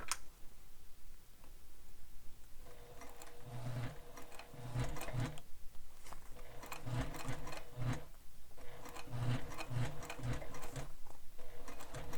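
A domestic sewing machine stitches binding onto a fabric sling pack, humming steadily with a rapid mechanical ticking, pausing briefly between runs; close and continuous with no talk.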